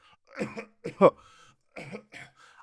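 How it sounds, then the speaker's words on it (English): A person gives several short, rough coughs and throat-clearing sounds in separate bursts, fairly close and moderately loud. "They started to cough"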